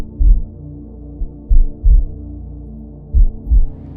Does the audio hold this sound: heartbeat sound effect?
yes